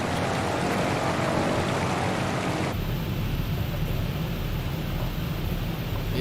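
Steady heavy rain hisses continuously in a flight simulator game, shifting abruptly to a duller, muffled wash partway through, like rain heard from inside a Wilga 35/80 cockpit.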